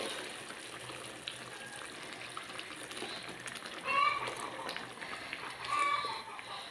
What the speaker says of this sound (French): je vais pouvoir verser de l'eau